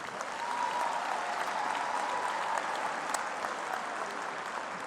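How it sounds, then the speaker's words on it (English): A graduation ceremony audience at a Faculty of Education event claps in a sustained, dense round of applause that fills the hall evenly for several seconds, with no speech over it. "Shall we give them another round of applause?"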